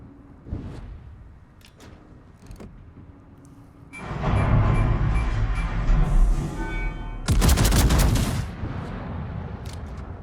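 Ship guns firing at the Emperor in a naval video game, a few scattered booms at first, then a sustained roar of heavy gunfire and explosions with a louder burst of shots near the end.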